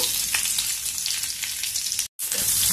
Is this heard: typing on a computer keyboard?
no